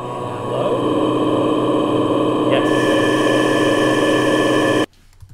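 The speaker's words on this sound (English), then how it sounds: "So we should get an infinite hold reverb with this." A vocal tone held and smeared by an infinite hold reverb in SuperCollider into a dense, unchanging wash that sustains loudly for several seconds, then cuts off abruptly.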